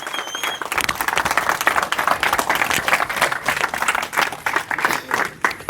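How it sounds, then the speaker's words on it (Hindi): Loud, sustained applause from a conference audience at an annual welfare trust event, welcoming a speaker to the stage; dense clapping fills the whole stretch with no voices on top. "तो जनाब आपकी भरपूर तालियों में जनाब काशिफ शफीक अब्बासी साहब।"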